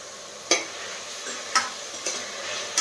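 Garlic and vegetables for a brinjal kothsu sautéing in a pan, a steady soft sizzle broken by four sharp scrapes of a spoon against the metal, close and alone with no talk.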